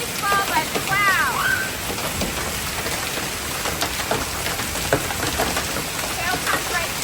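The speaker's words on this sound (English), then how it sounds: "Now we're down to golf ball size hail." Golf-ball-size hail falling on a farm during a huge storm, a dense continuous hiss of pelting impacts with scattered sharper strikes, with a brief voice-like sweep early on.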